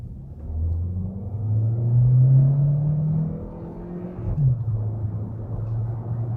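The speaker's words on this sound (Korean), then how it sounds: "스포츠 모드로 바꾸고 조금 급가속을 하니까 1단으로 80km까지 밀고 올라가고, 80에서 이제 2단 변속이 됩니다" A Renault Filante hybrid car accelerates hard in sport mode, its engine rising in a steady, loud drone before a quick dip and resettling around the shift into second gear at about 80 km/h, heard from inside the cabin.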